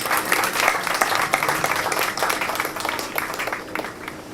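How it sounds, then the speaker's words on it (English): Steady applause from a sizable crowd at a World Environment Day opening ceremony, dense clapping that holds at a fairly loud level throughout and fades slightly toward the end. "Let's give them a very round of applause."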